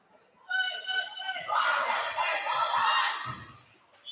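A high school girls' varsity volleyball cheering section for the Bulldogs yells and cheers loudly at a gym match, a sustained wash of shouting voices that swells and stays boisterous throughout.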